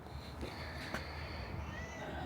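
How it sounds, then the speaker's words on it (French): A faint meow or two rises from a cat against a steady background hum, quiet and brief. "Oh, il y a des chats."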